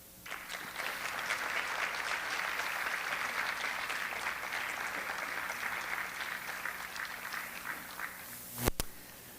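A school sports awards audience applauds a winner with loud, steady clapping that holds at an even level for several seconds, then ends with one sharp knock.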